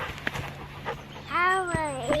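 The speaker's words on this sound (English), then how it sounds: "And Orla the dog has joined us too to hear the story" A dog whimpers in a couple of rising, whining cries, with soft panting-like breaths and light knocks before them, fairly faint and close in a quiet indoor room.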